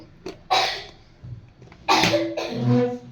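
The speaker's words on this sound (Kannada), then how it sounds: "ನನ್ನ ಮಗ ಕೆಮ್ತಾ ಇದ್ದಾನೆ" A few harsh coughs from a boy with a cold, close by, two main bursts separated by a short pause, with light breathing in between.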